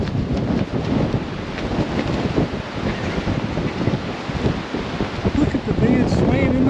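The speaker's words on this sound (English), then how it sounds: "You can see how bloody windy it is," Strong wind gusting across an exposed lakeside camp, a steady broadband roar with microphone buffeting and choppy waves underneath, loud and continuous throughout.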